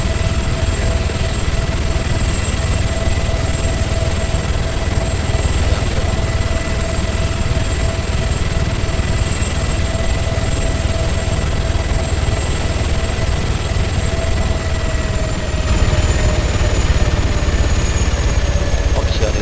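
Helicopter in Arma 3 flying close by, a constant loud low rotor and engine drone with a steady whine above it, lasting the whole stretch without voices.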